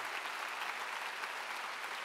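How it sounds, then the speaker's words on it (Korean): A large congregation at a church rally in an arena claps steadily, a dense, even wash of applause filling the space. "박수로 하나님께 박수로 하나님께"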